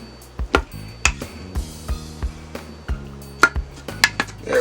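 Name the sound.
utensil breaking apart food in a pressure cooker pot on sear mode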